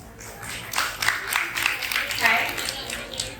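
An audience at a Women's Day neighbourhood gathering in Jogeshwari, Mumbai, claps to welcome a poetry reciter; the moderate, steady applause builds after a moment and carries on with voices underneath.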